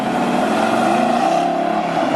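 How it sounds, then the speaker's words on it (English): A 2013 Ford Mustang Boss 302 with a 5-liter V8 and quad exhaust roars in a loud, sustained engine note that holds steady without a break. "what you heard just then was the V8 into the 5-liter V8 with the quad exhaust"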